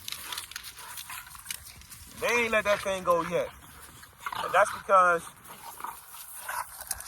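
Puppies and dogs yelp, whine and growl in short bursts around the middle, close by, while someone talks over them throughout.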